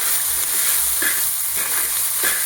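Cooked rice with turmeric powder and salt is sautéed in a pan for lemon rice, with a steady close sizzle and rhythmic scraping stirs roughly every half second, and no voices.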